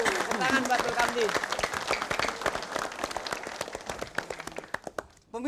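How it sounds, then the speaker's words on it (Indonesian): A studio audience at a comedy quiz show claps steadily in dense applause that gradually thins out and fades near the end. "Ya hadirin, tepuk tangan buat Dul Kamdi."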